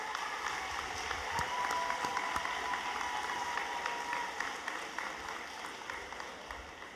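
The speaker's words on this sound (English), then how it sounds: "give them a round of applause" A high school graduation audience claps and applauds steadily, a dense wash of hands that eases off slightly toward the end.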